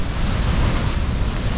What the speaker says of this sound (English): You can feel the waves crashing into the rocks.